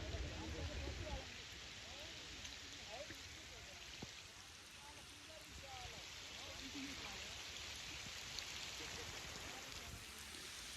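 Steady, dense heavy rain hisses continuously with a low rumble underneath in a village, fairly loud and unbroken throughout.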